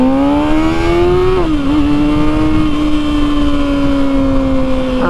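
A Kawasaki motorcycle engine revved hard at about 85% throttle at an outdoor demo event in Orlando, Florida, a loud continuous rising whine that dips briefly, then holds steady and close for several seconds.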